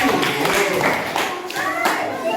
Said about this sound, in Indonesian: Dan tepuk tangan untuk kelompok 5.